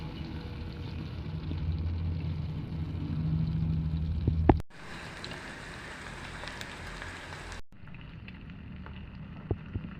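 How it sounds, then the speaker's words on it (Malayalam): Steady loud sizzle of beef frying in a pan for a Kerala-style beef dry fry, a continuous crackling hiss with a couple of abrupt shifts as the pan is stirred, close up and with no talking. "ഇനി നമുക്കിത് നമ്മുടെ ബീഫ് ഇട്ട് കൊടുത്ത് നന്നായി ഫ്രൈ ചെയ്തെടുക്കാം."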